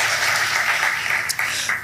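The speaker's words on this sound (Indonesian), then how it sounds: "Ayo kasih tepuk tangan dulu buat Tuhan kita." A church congregation applauds during a Sunday worship service, a steady wash of clapping that holds at an even level for nearly two seconds.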